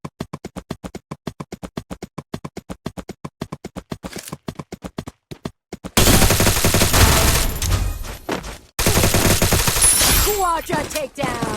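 Woodpecker and M10 weapons fire in a video game battle, starting with a fast, evenly spaced string of sharp shots and then breaking into dense, loud, continuous gunfire mixed with game effects.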